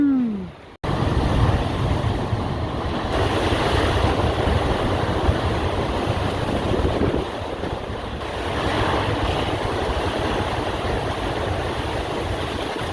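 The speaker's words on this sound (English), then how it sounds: "Yeah, big waves." Big ocean surf pounds the rocks along an Oceanside beach, a continuous roar of crashing water buffeted by heavy wind noise on the microphone, loud and close throughout.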